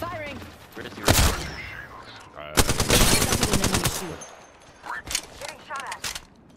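Automatic weapons fire in a ranked battle-royale-style shooter match, with a short burst followed by a long, rapid volley and then scattered shots as the ring closes. Faint voices sound in the background.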